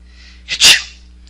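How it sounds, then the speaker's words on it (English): A single loud, close sneeze with a short intake of breath before it, otherwise quiet. "You've been sneezing a lot lately."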